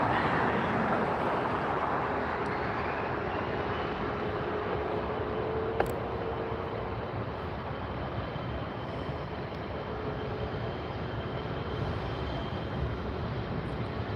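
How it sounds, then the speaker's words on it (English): A Delta Airbus A321 arriving from Atlanta lands at LAX with a broad engine roar that slowly fades from loud to softer, a single sharp click partway through. "Delta Flight 301 coming in from Atlanta, Airbus 321."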